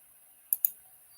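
A computer mouse gives a quick double click, two sharp, close taps about a tenth of a second apart over a quiet room, with no talking.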